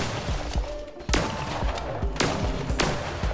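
Rapid gunshots in the video game Cult of the Lamb, a few sharp separate cracks followed by bursts of quick fire, each with a short thumping low end, loud against a steady game background.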